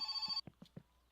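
A phone in the game My Summer Car rings with one brief, bright electronic burst that cuts off sharply, followed by a few soft low knocks in a quiet room.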